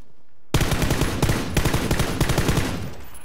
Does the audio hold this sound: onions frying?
no